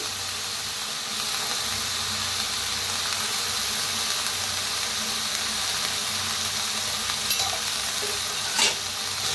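Mixed vegetables and peas frying in a kadhai over a village wood-fired stove, a steady loud sizzle and hiss throughout with occasional scraping stirs and a brief clatter near the end.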